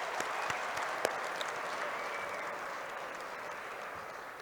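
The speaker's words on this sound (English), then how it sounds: "Shall we give them a round of applause?" Sustained audience applause at an expo closing ceremony and prize giving, a steady dense wash of clapping from a large crowd lasting throughout, with a few sharper claps standing out early on.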